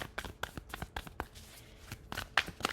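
Tarot cards shuffled and drawn by hand: a quick run of crisp riffling snaps and soft flutters, close and moderately loud, with a brief lull midway before a few sharper slaps of cards landing.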